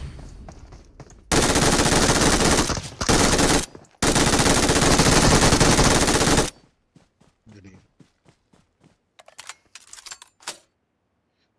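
Loud, sustained bursts of automatic gunfire from the BGMI mobile battle royale game, with several long volleys close together. The firing stops abruptly and gives way to scattered faint clicks and light movement sounds.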